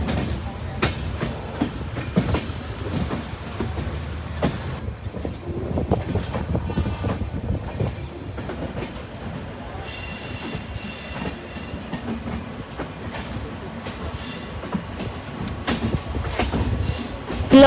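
Superfast express passenger train running on tracks between Bengaluru and Mysuru, a steady loud rumble with rhythmic clickety-clack of wheels over rail joints throughout, heard from on board with faint voices in the background.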